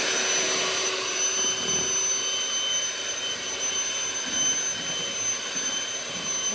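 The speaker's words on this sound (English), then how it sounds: "going to use the mixer." An electric hand mixer runs while mixing red velvet cake batter, a steady whining motor drone that holds at an even level throughout, close and continuous with no talk.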